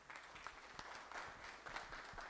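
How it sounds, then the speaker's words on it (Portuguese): Audience applause at a talk on post-consumer reverse logistics legislation in Brazil: a steady, fairly faint wash of many hands clapping, with scattered sharper claps throughout, no voices. "Eu queria pedir uma salva de palmas para o Robson."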